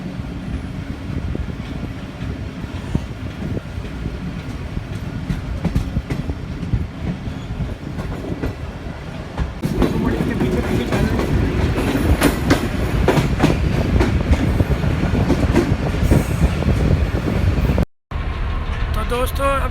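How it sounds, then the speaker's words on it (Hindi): The Karachi Express passenger train runs along the line on its Lahore to Karachi route near Raiwind Junction, a steady loud rumble with rhythmic clickety-clack of wheels and rattling carriages, growing louder midway and continuing throughout, with a brief dropout near the end. "हमारी ट्रेन इस वक्त पहुंच चुकी है राइविंड जंक्शन रेलवे स्टेशन पर"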